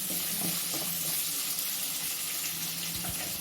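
Chopped onions frying in a pan for a mushroom butter gravy, giving a steady, close hiss and sizzle with a few faint scrapes from stirring throughout.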